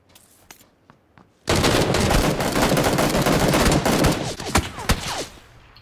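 Video game gunfire erupts suddenly after a few faint clicks, a loud, dense burst of rapid automatic shots and cracks lasting several seconds before tapering into scattered shots, with no talk.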